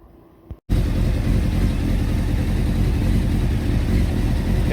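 A Honda CBR600 F3 motorcycle engine catches after a short starter whirr and settles into a loud, steady, rumbling idle that carries on alone up close.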